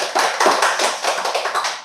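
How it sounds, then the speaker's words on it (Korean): Church congregation at a Sunday service clapping in welcome, a close, lively run of quick, distinct hand claps with no talk over them. "우리 환영하다고 박수 한번 할까요?"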